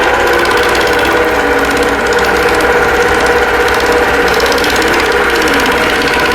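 A longarm quilting machine sews out a pantograph in a fast, steady mechanical hum and chatter with no pause. It sounds close and continuous, with no voices.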